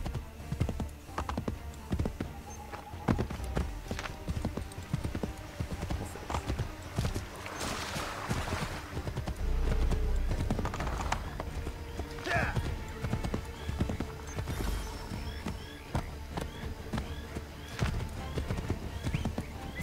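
Steady rhythmic clip-clop of horse hooves trotting continuously in the video game Assassin's Creed III, with a faint keyboard tapping and a voice talking underneath.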